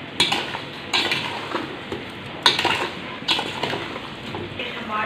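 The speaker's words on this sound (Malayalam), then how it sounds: "ഇനി നന്നായിട്ടിത് ഇളക്കുകയാണ്." Ash gourd pieces are stirred in sugar syrup in a pan, giving repeated scraping clinks of a utensil against metal over a low bubbling simmer.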